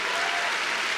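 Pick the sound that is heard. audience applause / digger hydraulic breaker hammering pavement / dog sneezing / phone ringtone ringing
audience applause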